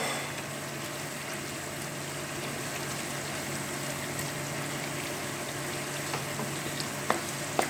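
Semolina for suji halwa roasting in a little oil with cardamom pods gives a steady, even sizzle and crackle that holds without a break, close by, with no talk.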